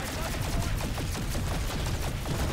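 Dense, rapid gunfire from Planetside 2 hammers on without a break, loud and close, a packed volley of overlapping shots fired at a hostile light assault cruiser.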